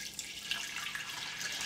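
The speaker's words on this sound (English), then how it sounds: "you're just going to get about 2 cups of water and fill it until it's over the chicken breast" Water pours steadily into an Instant Pot over raw chicken breasts, a brief bright splashing stream with no talk.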